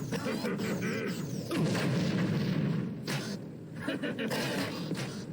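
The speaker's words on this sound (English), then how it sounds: "Very generous with the grenades in this build." Grenade explosions in the MDK2 prototype game, heavy rumbling blasts that overlap in a dense, continuous barrage with crashing debris, loud and close, with no talking.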